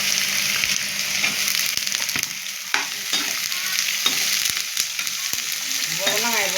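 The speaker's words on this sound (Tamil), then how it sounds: "புடலங்காயை போட்டு நல்லா வதக்கணும்." Snake gourd sautéing in a pan with lentils and onion, giving a steady loud sizzle with repeated sharp scrapes and stirring clatters, no talking.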